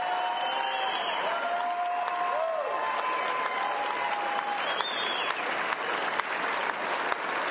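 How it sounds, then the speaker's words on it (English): A crowd at a tennis match in Texas applauds player Kostyuk's win in a steady, continuous wash of clapping, with whistles and cheers rising above it. "And she takes the applause. She takes the plaudits."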